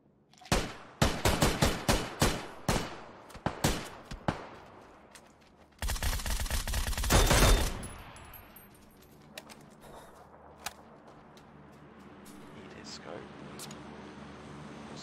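Gunfire in an online shooter game crackles in rapid sharp shots, then a dense burst of automatic fire, followed by scattered distant shots and rumbling ambience.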